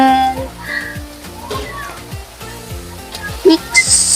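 Cabbage and meat stirred and frying in a pan, a steady sizzle with scraping strokes of a utensil and a few louder clatters near the end.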